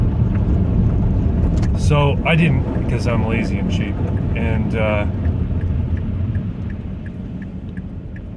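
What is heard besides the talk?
car driving slowly on slushy snowy road without winter tires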